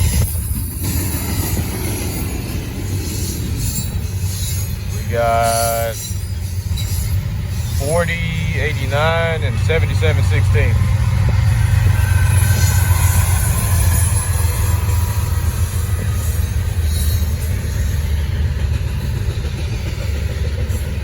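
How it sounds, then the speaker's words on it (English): Norfolk Southern freight train rolling past up close on the Charlotte District, a steady heavy rumble of railcars filling the whole stretch, with a sharp horn blast mid-way and someone talking over it. "make sure I'm recording the train"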